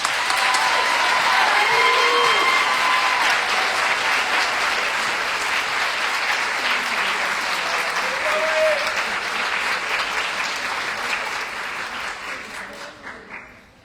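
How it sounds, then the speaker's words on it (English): A meeting crowd gives a sustained round of applause for students. The dense clapping stays steady for several seconds and then tapers away near the end, with faint voices underneath. "Big round of applause."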